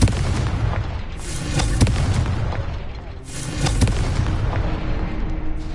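Confringo fire spell blasting in Hogwarts Legacy: two loud, booming explosions about two seconds apart, each with a sharp crack and a rumbling tail.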